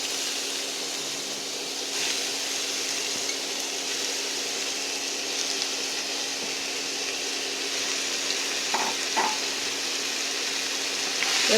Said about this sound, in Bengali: একটু লাউগুলোকে ভেজে নিই